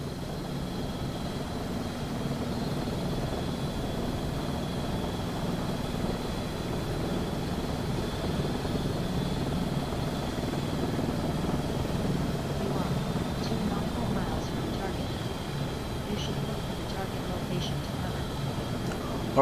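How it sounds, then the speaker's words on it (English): A steady AS350 helicopter drone in the X-Plane flight simulator with a continuous rotor blade slap, loud and unbroken throughout, like being inside the cockpit. "You can hear the blade slap."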